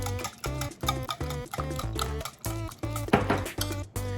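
A spoon stirs chopped ham into an egg bite mixture with cheese in a bowl, making a series of regular scraping clinks, about eight rhythmic strokes close up with no talk.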